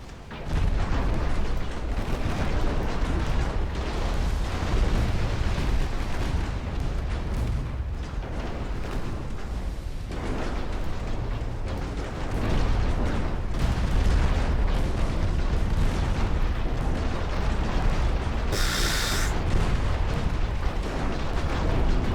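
Naval 4- to 6-inch guns shelling a shoreline in a war video game, a continuous heavy rumble of distant artillery fire and explosions rolling without pause, no speech.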